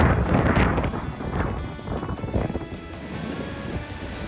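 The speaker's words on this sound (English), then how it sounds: "Look at those waves crashing on the wall." Stormy sea waves crashing against a wall, rough roaring surges and splashes mixed with gusty wind noise, loud and continuous with several heavier bursts, then easing slightly toward the end.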